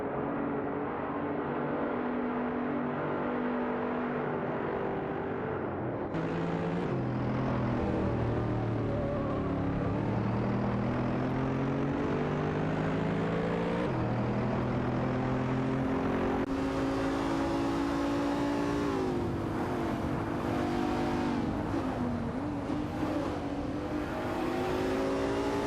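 Several cars racing in a video game, all BMW 3.0 CSL homage models, their engines droning and shifting pitch together, swelling and changing as they accelerate and pass, loud and steady throughout with no voices.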